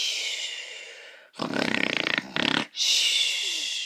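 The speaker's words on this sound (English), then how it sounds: "Marge snored on." A dragon princess snores loudly, a long rumbling, pulsing inhale-like roar broken by a short pause, set between stretches of hissing background noise.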